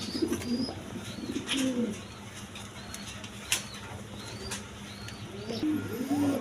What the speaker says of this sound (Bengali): এখানে দুইটা রেশারের নর কবুতর আছে দেখেন